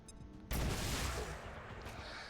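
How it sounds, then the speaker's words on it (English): A grenade explodes in the video game XCOM 2, a sudden loud boom followed by a sustained roaring, crackling blast that stays loud as debris and rumble fill the rest of the moment. "Instead, we are just gonna throw a grenade."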